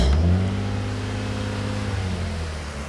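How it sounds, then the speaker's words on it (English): A 1998 Nissan Skyline R34 engine idles steadily nearby, giving a low, even hum with a slight drop in level after the first moment and no talk. "when we start it up, we'll be looking to get an idle that's around 600 RPM"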